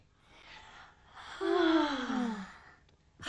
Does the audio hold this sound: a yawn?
yes